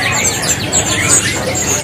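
Canaries singing at a kiosk in the Pramuka bird market, a dense wash of overlapping chirps and trills filling the whole stretch with busy market murmur underneath.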